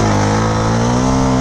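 A Honda CB Twister motorcycle is revved on the throttle alone, with no clutch. The engine gives a loud, close, continuous drone that rises slightly in pitch partway through.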